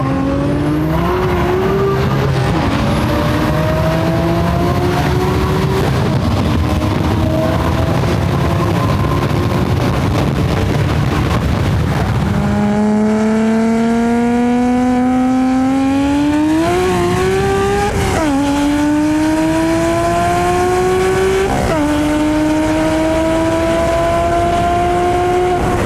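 A tuned BMW M3 accelerates hard through the gears, its engine heard from inside the car, loud and droning, the pitch climbing steadily with sharp drops at each upshift.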